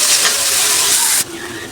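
Onions frying in a pan, a dense close sizzle with steady crackle that drops abruptly to a quieter hiss partway through.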